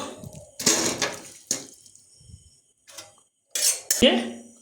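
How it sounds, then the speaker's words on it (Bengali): Cooked chicken is lifted out of a metal wok into another pot, with several loud, irregular clanks and scrapes of a spoon against metal separated by short quiet gaps. "চিকেনটাকে আমরা কড়াই দিকে তুলে একটা অন্য একটা পাত্রে রেখে দেবো"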